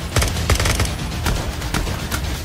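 Gunfire in a video game shootout, with rapid bursts of automatic shots followed by scattered single cracks, loud and close, with no speech over it.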